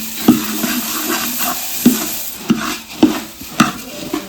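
Puffed rice being stirred in a pan for sweet laddoos gives a dry, crunchy scraping and rustle, with a spoon knocking against the pan in repeated sharp clacks about every half second, close and loud.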